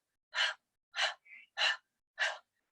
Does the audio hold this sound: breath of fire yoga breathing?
yes